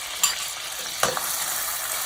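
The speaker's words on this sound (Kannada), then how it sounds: "ಈಗ ಟೊಮೆಟೊ, ಒಂದು ದಪ್ಪ ಟೊಮೆಟೊ, ಒಂದು ನೀರುಳ್ಳಿ ಹಾಕೊಂಡು ಚೆನ್ನಾಗಿ ಫ್ರೈ ಮಾಡ್ಕೊಳ್ತೇನೆ" Tomato and onion hitting hot ghee and oil in a pan, a steady broadband sizzle with two sharp clatters as the pieces go in, close and fairly quiet, no talking.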